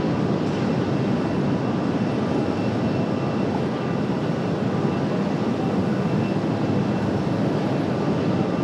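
An Airbus A319 airliner arrives at Raleigh-Durham International Airport, its engines a steady, distant broadband roar that holds even and unbroken from start to finish, with no voices.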